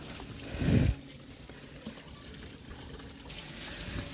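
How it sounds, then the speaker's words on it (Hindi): Water is poured into a bowl at home, a brief soft splash and gurgle near the start that fades into a quiet room tone. "इसके अंदर पानी डालते हैं।"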